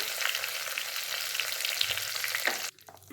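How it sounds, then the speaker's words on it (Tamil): Curry leaves crackle and sizzle hard in hot oil for a Tamil tempering meant for a shallot and garlic spicy chutney, a dense, steady hiss lasting nearly three seconds before cutting off to quiet. "கருவேப்பிலை இதான் தாளிப்பு"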